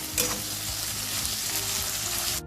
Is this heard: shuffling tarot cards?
no